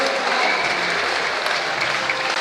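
Crowd cheering and applauding at a senior lead climbing national championship semi-final, a dense, steady roar of clapping and shouts filling the whole stretch at close range.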